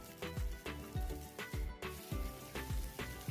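Carrots and mixed vegetables frying in oil with ginger-garlic paste for a homemade masala vegetable pasta, a steady close sizzle with regular stirring scrapes repeating about every half second, no talking.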